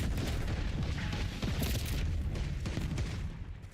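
Black Ops 6 gunfire bursts in rapid, loud volleys with booming impacts, a continuous dense barrage of shots throughout.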